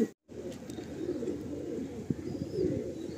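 Pigeons in a pigeon loft give low, soft cooing that runs steadily through the clip, close and moderately loud, with one short break near the start.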